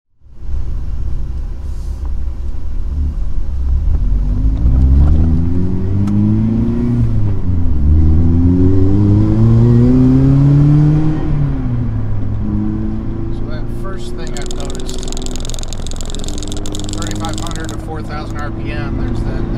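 A supercharged Mazda Miata's engine hums loudly from inside the car as it revs and drops and rises in pitch with intermittent surging around 3,000 to 4,000 RPM, under a steady rumble with a brief whine later on.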